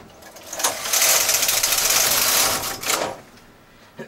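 An SK155 knitting machine with an SR155 ribber knits a 2x2 rib as the carriage makes one loud, close pass. It gives a sustained rattling whir for about two seconds, then falls quiet, and a single click comes at the end.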